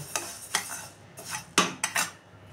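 Metal spoon clinks and scrapes against a pan while fried lentils for mutton keema khichuri are taken off the heat, a handful of separate sharp clatters spread out over a couple of seconds, close and fairly quiet, with no talking.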